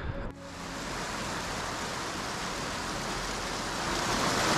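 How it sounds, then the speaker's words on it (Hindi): Icy meltwater pouring out from the snout of a long mountain glacier, a steady, loud broadband rush of flowing water that holds evenly throughout and swells slightly toward the end, with no voices. "स्नाउट यानी यहाँ से पानी जो है वो बाहर निकलता है।"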